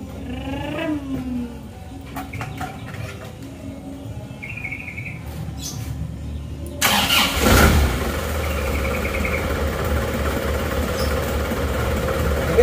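A diesel car with a smoking exhaust cranks and fires up, a whirring starter followed by a sudden loud catch around seven seconds, then a steady rumbling idle close by.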